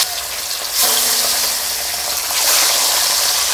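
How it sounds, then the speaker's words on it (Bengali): Sea fish (bogo) dropped into hot oil, the frying hiss surging in two loud bursts as pieces go in, then a sustained close sizzle. "তেল গরম হয়ে গেছে, মাছ দিয়ে দিচ্ছি"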